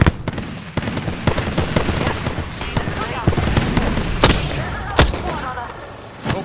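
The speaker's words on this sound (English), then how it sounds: "Grenade incoming." Grenade blasts and bursts of gunfire in a video game, sharp explosive cracks and rattling shots hitting one after another over a constant noisy battle din, loud and close, with a voice talking through part of it.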